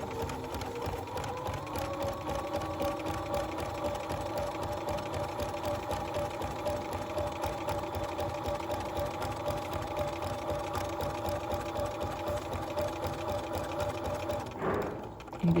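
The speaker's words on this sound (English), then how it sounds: "and then we just sew down." A sewing machine stitching a quilt block runs steadily at a constant hum with fast rhythmic needle clatter, close and even throughout, briefly slowing near the end.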